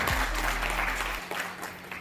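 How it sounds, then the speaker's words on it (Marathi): Audience at a community gathering claps together in a dense, continuous round of applause that fades slightly toward the end. "त्यांचा एकदा टाळ्या वाजून सगळ्यांनी स्वागत करावं"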